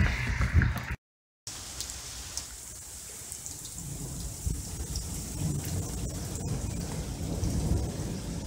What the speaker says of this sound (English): it's been 3 hours and it's still raining